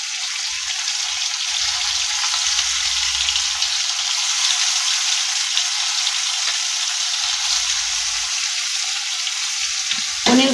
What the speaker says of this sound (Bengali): তেল গরম হয়ে গেছে, পনিরগুলো এর মধ্যে ছেড়ে দিলাম।